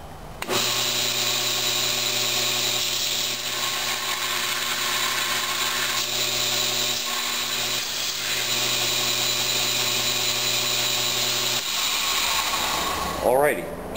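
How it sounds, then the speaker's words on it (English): A grinder shapes the oval profile of a knife's finger guard, giving off a steady, loud whirring drone with a constant hum that runs unbroken for most of the stretch before cutting off near the end. "grinder to finalize the shape of the guard, at least in terms of the oval profile"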